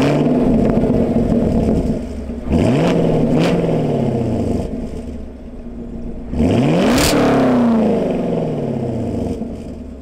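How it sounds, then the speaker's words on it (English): American muscle car engine with the exhaust valve open, revved sharply twice from idle, each blip climbing then falling back to a deep burbling idle, loud and close with no talking. "I might try to get some revs for you guys."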